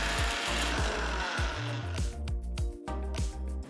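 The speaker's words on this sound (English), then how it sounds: "Transfer to a mixer jar and grind it to a nice fine powder." Mixer grinder whirring loudly as it grinds cooled roasted masala spices into fine powder, a steady motor roar broken by repeated rhythmic pulses and rattles of the spices in the jar.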